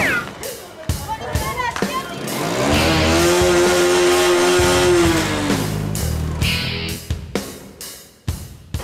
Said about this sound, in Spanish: Aquella, la moto roja, mirá.